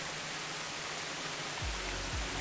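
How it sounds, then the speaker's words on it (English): A waterfall pours down rocks in Parque Lage, Rio de Janeiro, giving a steady broadband rush that fills the scene, with a couple of low thumps near the end. "We got the waterfall behind us coming down the rocks."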